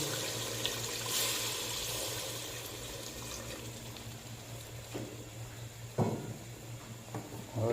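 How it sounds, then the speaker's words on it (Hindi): Water is added to a pot of desi chicken meat that has finished cooking, pouring in a steady, moderate wash with a few clinks and splashes, close by, with no voices. "अभी हम इसमें पानी ऐड कर देते हैं।"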